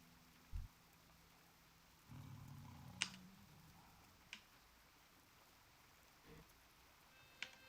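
Soft, steady rain falling in the video game Turtle WoW, a faint continuous hiss with a few brief clicks and low rumbles scattered through it, no one talking.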